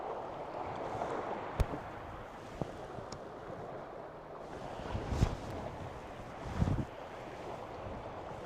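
Wind blows outdoors on a calm night while hunting the northern lights, a low steady rumble with a few brief knocks and gusty swells.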